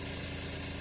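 Steady hiss of a spray gun lightly hazing paint onto a Suzuki Intruder motorcycle part, continuous and even with no talking.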